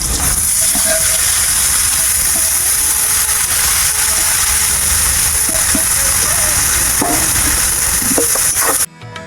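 Helencha greens and fish cooking with turmeric and salt in a pan, a loud continuous hiss and sizzle with occasional clinks and stirring sounds, cutting off abruptly at the end.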